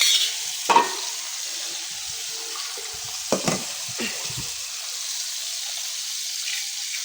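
Pumpkin curry cooks in a pan over a steady low sizzle, with a few sharp scrapes and clacks of stirring at scattered moments, close and fairly quiet.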